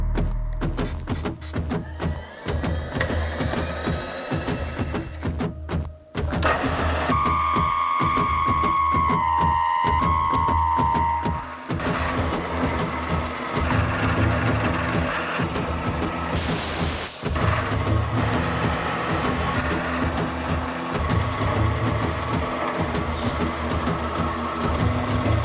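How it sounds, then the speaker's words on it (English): A milling machine with a big carbide end mill roughs out a shamshir scimitar blade, a loud close continuous mechanical whir and hiss with shifting tonal whines and intermittent harsher cutting bursts. "I'm just gonna use a big old carbide end mill to rough out everything that roughly doesn't need to be there."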